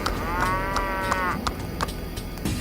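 A cartoon buffalo gives a long, drawn-out moo over a layer of background music, while soft chime-like notes ring out at intervals.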